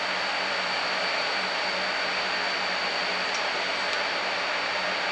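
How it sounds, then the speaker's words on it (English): A TIG welding torch runs on steel with a steady, even hiss and faint hum throughout, continuous and moderately quiet, with no voices over it. "second weld on a piece of steel with TIG"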